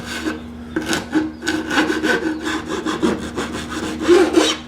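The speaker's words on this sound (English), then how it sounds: "I actually like to use a file while it's clamped in." A hand file run repeatedly along the edges of a clamped wooden board, giving a steady series of close, raspy rubbing strokes with no talking.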